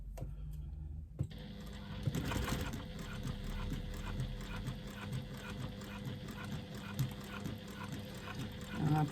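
A sewing machine with a size 16 universal needle, a Teflon foot and Coats Moon thread stitching a leather clutch strap at an even speed, heard as a faint, steady mechanical whir and patter that runs from just after the start.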